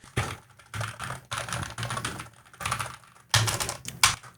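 Typing on a $30 wired Gamakay NaughShark NS68 Hall effect keyboard, with close, steady clusters of key clacks arriving in short bursts separated by brief pauses.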